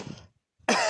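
A single harsh cough from someone suffering a bad cold, a brief burst near the mic followed by a quieter gap and then a louder, rougher throat-clearing rasp.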